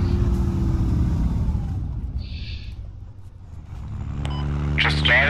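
A vehicle engine in the Squad video game, loud and rumbling at first, then easing off before revving back up near the end, with people talking over it.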